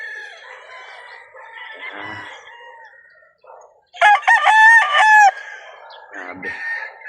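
A rooster at a game farm gives a loud, close crow lasting about a second. Quieter clucking and farmyard sounds come before and after it.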